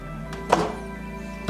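The lid of a bread machine shuts with a single soft, dull thunk at close range, set against a faint steady hum.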